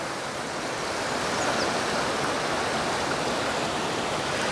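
Water from Sandoa Waterfall in Bhimber, Azad Kashmir, pours over slippery rocks in a steady, loud, broadband rush that stays constant throughout, with no voices.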